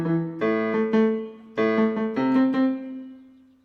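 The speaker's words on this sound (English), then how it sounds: "that's kind of the sort of bass riff that you can hear" A bass guitar plays a short repeating riff, a few clear plucked notes in a steady pulse, alone and with no voices, fading at the end.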